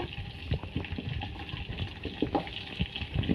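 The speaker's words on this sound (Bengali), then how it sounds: "বন্ধুরা আমার চিকেন কিন্তু হয়ে গেছে ভাজা, একটু হালকা বাদামি কালার কিন্তু করছি" Chicken pieces fry in a pan with a soft, continuous sizzle and occasional bubbling pops, moderately close and without any talking.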